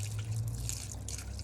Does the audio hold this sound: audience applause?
no